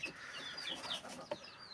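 Hens on a farm cluck in agitated, overlapping calls, near and fairly loud. A sharper squawk breaks through near the end.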